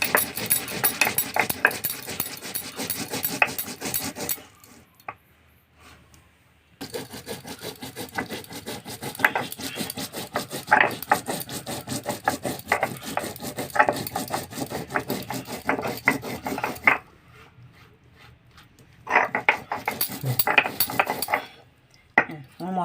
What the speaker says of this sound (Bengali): এবার আমি একটু গোটা জিরে আর একটু চন্দনী একসাথে বেটে নেব।